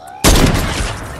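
Burst of gunfire in a shooter video game, loud and close, a dense crackling volley that starts abruptly and rolls on for about a second.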